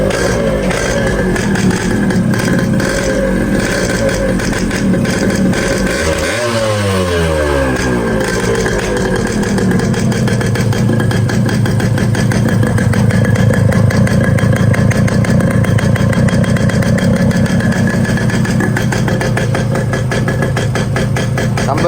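A motorcycle fitted with a chamber silencer exhaust runs loudly and continuously, its throbbing engine note sweeping briefly as the throttle is blipped midway before settling back to a steady idle.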